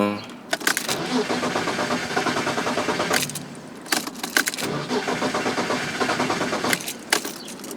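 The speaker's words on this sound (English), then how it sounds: "Flip the supposed switch, and it's gonna start because there's already fuel there." BMW E36 M3 engine cranking and catching, then idling roughly, with repeated cranking bursts and restarts and a jangle of keys, close and loud.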